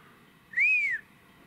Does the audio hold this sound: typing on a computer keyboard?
no